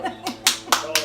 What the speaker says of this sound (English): I get a round of applause.